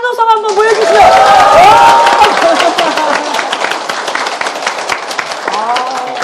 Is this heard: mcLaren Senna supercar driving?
no